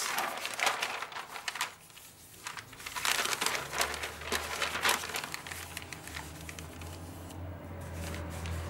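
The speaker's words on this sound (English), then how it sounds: "we need to fold the neckline darts, folding the line closest to the centre front first in both darts" Paper pattern sheets being folded along neckline darts, giving soft crinkling and rustling handling sounds close by, with intermittent bursts and a low hum underneath.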